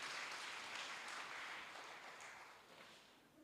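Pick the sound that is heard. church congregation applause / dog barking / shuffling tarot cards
church congregation applause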